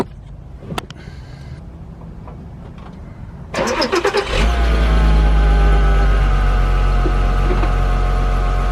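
A 2008 Volkswagen R32 with a 3.2 V6 engine and all-wheel drive, at about 201,000 miles, cranks and fires up after a few seconds of quiet rustling, then settles into a loud, steady, close idle.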